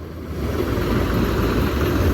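A tractor engine runs at a steady idle near a weighbridge, loaded with crushed stone. It makes a continuous close, low rumble with even vibration and no breaks.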